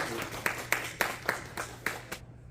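An audience claps to open a school admissions seminar at a newly opened academy branch. About seven sharp claps come in a slow, even rhythm, close and moderately loud, then fade out.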